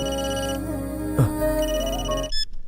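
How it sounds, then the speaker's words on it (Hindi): A mobile phone ringtone plays as a loud melodic tune, fairly close, cutting off abruptly near the end with no talk over it. "रिंगटोन काफी अच्छा है तुम्हारा"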